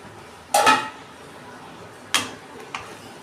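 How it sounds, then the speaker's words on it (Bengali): Lid lifted off a cooking pot while vegetables cook in a home kitchen: three separate metallic clanks, the first two loudest, over a quiet background. "আমি এবার ঢাকনা খুলছি।"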